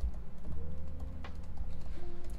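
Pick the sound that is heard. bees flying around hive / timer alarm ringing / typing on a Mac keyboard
typing on a Mac keyboard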